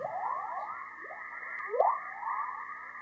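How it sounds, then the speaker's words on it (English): Space radio emissions picked up by a Van Allen probe: a series of short rising chirping tones sweep upward over a steady droning band, eerie and whistle-like, with no voices. "Here's another Van Allen probe's data."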